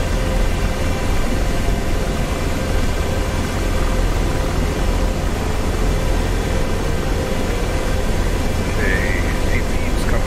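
An AH-64 Apache helicopter's engines spool up in DCS World, a steady, loud whining roar that holds a continuous dense drone throughout with a faint rising tone near the end.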